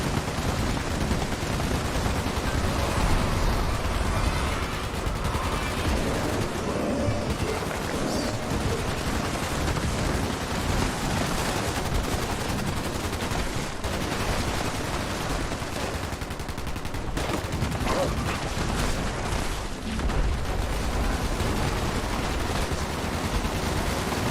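A Gauss minigun fires in Fallout 76 during a long queen fight. The weapon roars without a break in one dense, loud wall of rapid fire that lasts throughout.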